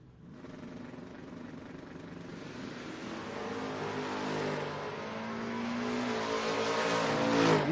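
At a drag strip, door-car race cars, one of them a Buick from Ohio, roar with a broad engine rumble that builds and climbs in pitch toward a loud launch; no speech.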